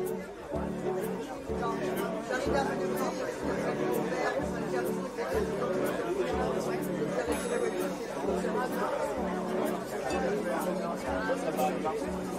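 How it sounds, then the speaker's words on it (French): Busy open-air market crowd, a dense steady babble of many voices talking at once, with occasional clatter and footsteps, continuous and close all around. "Le marché battait son plein."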